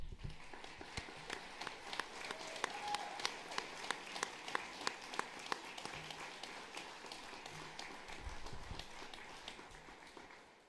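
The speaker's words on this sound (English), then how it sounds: "Let's have one more round of applause for the wonderful music." At the Hopkinton High School graduation, the audience applauds the music with a long, even round of clapping, crisp individual claps over a soft crowd wash, tapering off at the end.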